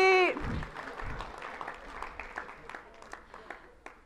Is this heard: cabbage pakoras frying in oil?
no